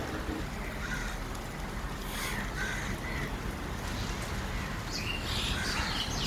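Birds calling outdoors on a rainy morning, a few crow-like caws rising over a constant wash of falling rain, fairly distant and intermittent.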